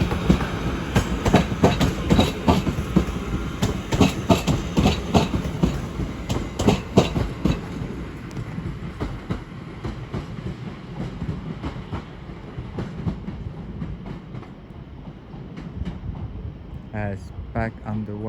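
Northern class 323 electric unit 323229 at Crewe station, arriving as a terminating service from Manchester Piccadilly, rumbling and clattering steadily nearby, fading toward the end with a brief squeal, while a station announcement plays over it.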